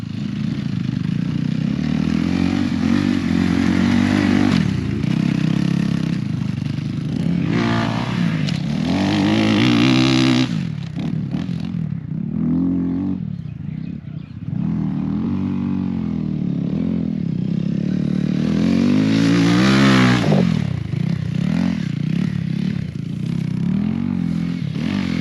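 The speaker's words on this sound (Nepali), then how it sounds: "जो केटाहरू कुदिरहेछन् टेस्ट राइड हान्दैछन् नयाँ बाइक" Several Crossfire RMZ 250 dirt bikes lap a track on new-bike test rides at a launch event, engines revving and droning loudly and continuously, rising and falling as riders pass close by, with rattling clatter throughout.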